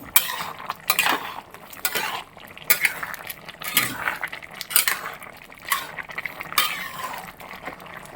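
A spoon stirs a Kerala-style chicken stew with carrots in a metal pot, giving irregular close clinks and scrapes against the pot over a soft simmer, with no talking.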